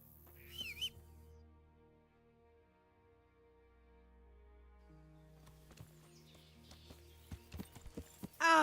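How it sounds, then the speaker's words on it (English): Horse hooves clip-clop with an irregular rhythm, sparse at first and then closer and louder near the end, with a sustained tonal background and brief bird-like calls. "That horse of yours nearly trampled me to death."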